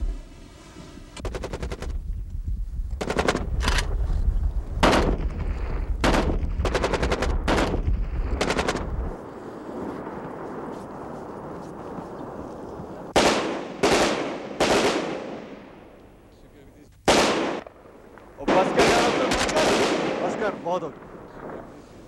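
Gunfire in a classic Pakistani military drama comes as repeated loud automatic bursts and single shots in clusters throughout, loud and close, with voices in between.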